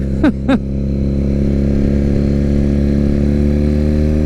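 A 2006 Triumph Bonneville bored out to 903 and ported runs steadily with a loud, close, droning engine note, preceded by two brief rising whistle-like chirps near the start.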